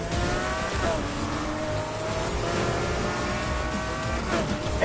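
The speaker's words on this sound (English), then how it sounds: "The car sounds so good." A McLaren sports car engine roars loudly and continuously nearby, with rising and falling tonal whine across several seconds.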